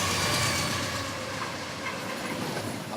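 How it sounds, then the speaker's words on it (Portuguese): A train on the Vitória-Minas railway passes by the quiet district of Itapina in Colatina, giving a steady broad rumble and rolling noise at moderate volume that eases slightly over a few seconds, with no voices. "o silêncio só é interrompido pelo barulho do trem"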